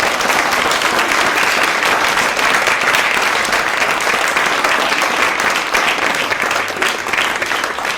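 Steady, dense applause from an audience at a school spring play fills the whole stretch, evenly loud and continuous with no talking over it.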